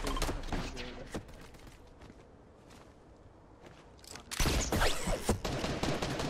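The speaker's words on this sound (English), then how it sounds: "All I can hear is gunshots." Bursts of rapid gunfire in Fortnite crackle in quick succession, fading to a quieter lull, then erupting again louder and denser toward the end.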